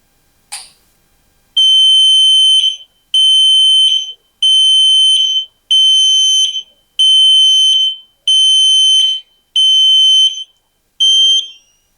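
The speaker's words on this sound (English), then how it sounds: "And then I will show you the demo of this particular buzzer cum flasher." An electronic buzzer alarm sounds in eight loud, piercing high-pitched tones, each about a second long with short gaps, after a brief click.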